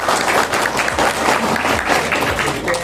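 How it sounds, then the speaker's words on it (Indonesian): An indoor audience at a business seminar claps in sustained, dense applause for a few seconds, loud and close. "Tepuk tangan buat ABCS."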